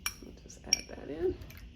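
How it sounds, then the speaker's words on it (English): A metal utensil clinks a few times against a bowl while stirring cornbread chicken dressing mix with beaten egg, with short sharp taps and a soft scrape, close and fairly quiet. "Just give this a stir."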